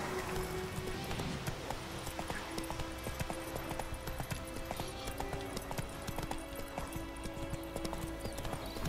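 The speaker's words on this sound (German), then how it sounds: "Und da reiten wir jetzt ein wenig schneller." Horse hooves clip-clopping steadily at a quickening pace as the horse Roach is ridden along a path in the video game The Witcher 3: Wild Hunt, a soft, continuous rhythmic patter under other game sound.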